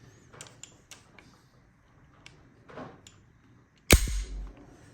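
Springfield XD .45 ACP pistol being handled to clear the chamber: a few faint small clicks, then one sharp, loud metallic slide snap near the end with a brief rattle after it.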